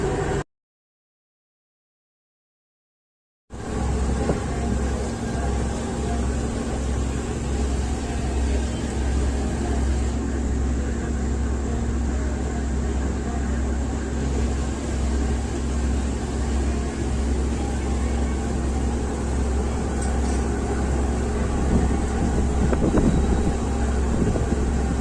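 A coastal cruise ship running at speed, with a loud, steady engine drone and rushing wind and water noise that continues without a break after a brief silent gap at the start.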